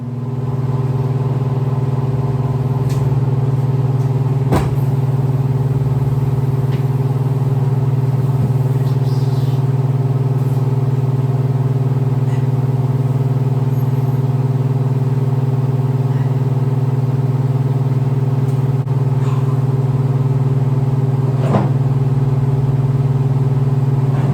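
A Gheenoe Lowsider boat's motor drones continuously at a constant idle pitch, loud and close, with a few faint knocks and clicks over it.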